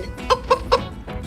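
A LeapFrog Learning Friends 100 Words Book toy hen clucks three times in an even rhythm, bright and close, over a steady low background hum.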